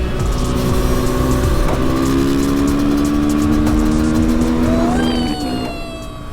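A KTM 500 EXC-F enduro motorcycle runs at full throttle, its engine holding a loud, steady high-rev drone before the pitch shifts near the end as the rider changes gear.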